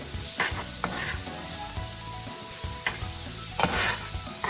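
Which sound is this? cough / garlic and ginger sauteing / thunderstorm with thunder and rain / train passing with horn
garlic and ginger sauteing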